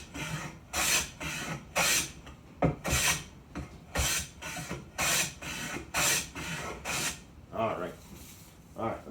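Hand plane taking shavings off a wooden board in a woodworking lesson, a series of rhythmic rasping strokes, each a short swish, repeated about a dozen times close up.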